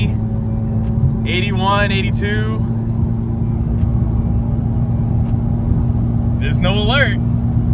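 Manual-transmission Chevrolet Camaro accelerating on the road, a steady loud engine drone and tire hum from inside the cabin with someone talking over it.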